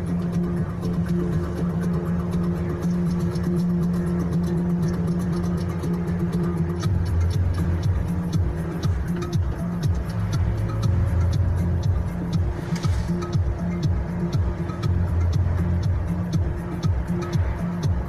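Cars crawl in morning traffic heading toward Geneva, with a continuous engine rumble and tyre noise from vehicles moving past close by, some accelerating, heard from inside a vehicle.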